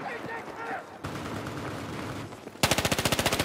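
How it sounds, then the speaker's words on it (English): Rapid pistol gunfire from Battlefield 4, a quick loud string of evenly spaced shots bursting in near the end after stretches of noisy game ambience. "It's a powerful pistol."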